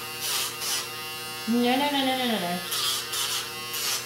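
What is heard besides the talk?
Dremel rotary tool trimming a dog's nails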